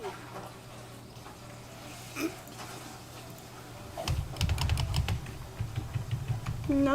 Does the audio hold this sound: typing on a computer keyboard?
yes